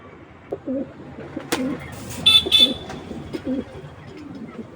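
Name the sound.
pigeon cooing call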